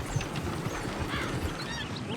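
Horses clip-clop and snort in Red Dead Redemption 2 around an out-of-control stagecoach, a steady low patter of hooves under faint background game sounds.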